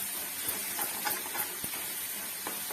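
Potatoes frying in a pan for a village-style eggplant curry, a steady soft sizzle and hiss with small crackles, close and fairly quiet, no talk.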